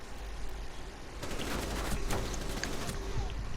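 Rapid bursts of gunfire from a video game shooter duel, a steady clatter of shots with sharper reports clustering toward the middle, continuous and fairly loud over a busy game backdrop.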